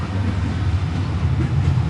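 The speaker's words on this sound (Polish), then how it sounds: "I tramwaj jedzie teraz w kierunku Sosnowca." A low, steady rumble of a number 15 tram rolling past nearby in Katowice-Szopienice, continuous for the whole stretch with no voices.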